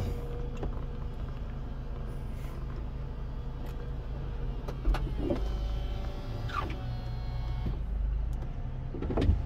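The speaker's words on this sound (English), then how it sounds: "There you go, windows up" A power window motor on a 2001 Mercedes SLK hums steadily as the glass rises, close and continuous, with a few clicks and thumps as it travels up and seats.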